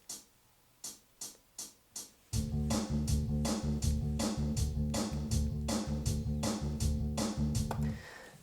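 A self-recorded drum and bass track plays back through a microphone: a few sharp drum hits open, then a steady, dense groove with a thick low bass line and regular percussive accents runs loud to the end.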